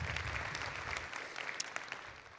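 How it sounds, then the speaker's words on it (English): Conference audience clapping in honor of community health aides, a scattered, thinning round of claps with distinct individual hand strikes fading out toward the end. "Yes, we can clap."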